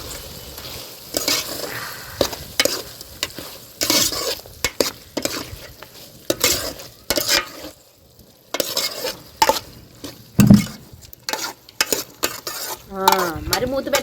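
Tomatoes frying in a chicken curry pan with turmeric, with repeated scraping stirs of a spoon against the pan over a sizzling bed, loud and close, broken by short pauses and a light clink.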